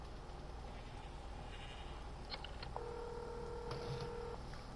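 Electronic phone tones from a Call of Duty Zombies video game beep briefly, then a sustained dual-tone dialing sound holds for over a second against a low background hum.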